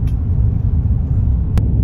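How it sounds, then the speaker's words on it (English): Busy road traffic heard from inside or beside a moving car, a loud steady low rumble of engines and tyres with a brief high click near the end. "so much traffic"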